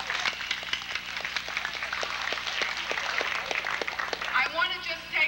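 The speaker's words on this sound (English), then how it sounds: "every one of you, give yourselves a nice round of applause" An audience at a youth empowerment event claps in a steady burst of applause, many hands pattering together at moderate loudness while a voice speaks over it.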